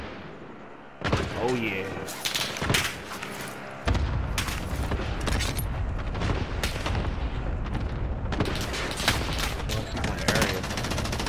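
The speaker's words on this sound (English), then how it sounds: "Somebody else shooting." Video game gunfire crackles in rapid bursts and sustained volleys, with heavy booms and dense shooting filling most of the stretch while players talk briefly over the action.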